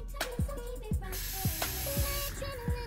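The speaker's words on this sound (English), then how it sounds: "I'm gonna cover my eyes and spray from afar all over my face." A steady hiss of makeup setting spray misted onto a face lasts about a second over a thumping beat with regular bass hits.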